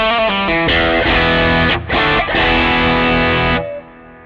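An electric guitar plays through a Line 6 Helix Heir Apparent overdrive, a loud, saturated chord strummed after a few single notes, ringing out for a few seconds with brief dips before it cuts off.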